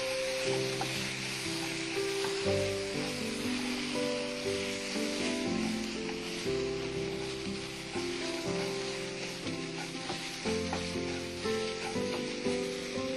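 Milk and semolina frying in ghee give a steady, soft sizzle that holds without a break for the whole stretch, with a faint tonal hum underneath.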